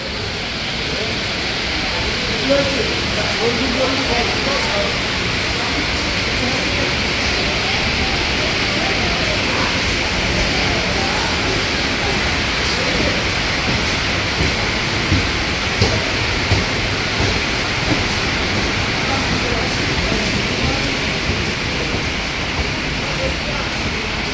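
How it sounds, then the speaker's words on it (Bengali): The 03162 Kolkata special fare train, running from Digha to Dakhineswar, pulls away toward Kolkata station, giving a continuous, even roar of rumbling wheels and rushing air that holds steady throughout. "এই যে ট্রেন এখন চলে যাচ্ছে কলকাতা স্টেশনের উদ্দেশ্যে।"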